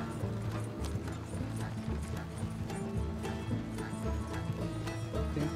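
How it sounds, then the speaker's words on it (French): Horse hooves clip-clop steadily as the player's horse follows behind in the Red Dead Redemption 2 video game, a continuous rhythmic trot mixed with other game sounds. "il y a mon cheval qui me suit"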